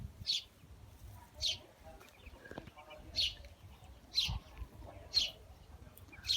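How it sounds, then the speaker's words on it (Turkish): Short, high chirps repeat about once a second over quiet low rumbling, a bird calling steadily at moderate distance. "Kuşlar da okuyor."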